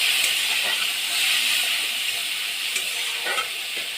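Fish with onion and spices sizzling in hot oil in a pan, a steady loud hiss and crackle that stays constant throughout with no talking.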